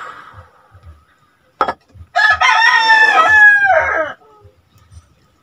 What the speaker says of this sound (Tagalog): Nakikisabay ulit ang mga tilaok ng manok sa aking paligid.